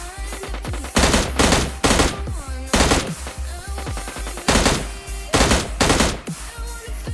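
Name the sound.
M416 rifle gunfire in video game PUBG Mobile Lite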